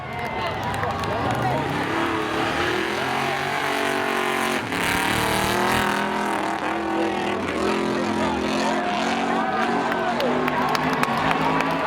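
Spectator drag race cars, a Ford and a Corvette, race at Seekonk Speedway on Independence Day, with engines roaring and revving under a track announcer's voice and a cheering crowd.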